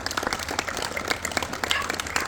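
An audience at a foundation event in Portland, Indiana, claps in a fairly quiet, loose round, with individual claps audible over a low hum.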